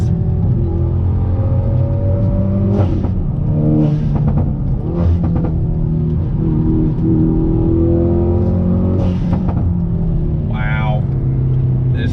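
A Hyundai Veloster N engine revs and accelerates hard in the foreground, its pitch rising and falling across shifts, with a voice talking over it.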